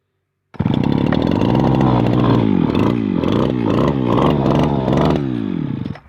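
A brush cutter's small two-stroke engine roars to life close by and revs hard in a rice field, its pitch rising and falling repeatedly as the throttle is worked while cutting grass.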